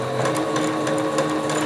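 Domestic sewing machine stitching ribbon onto a fabric stick horse, running as a steady fast mechanical whir with a rapid needle clatter throughout, close and continuous with no talk.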